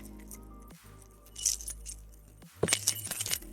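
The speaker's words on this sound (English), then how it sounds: "There you go, keys." Keys jangle and clink in two bursts, a short rattle near the start and a denser, brighter jingle toward the end, close and moderately loud with low hum between.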